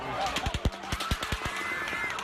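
Rapid bursts of fully automatic gunfire at an outdoor Las Vegas concert shooting, a string of sharp echoing pops in quick irregular succession, loud and sustained without a break.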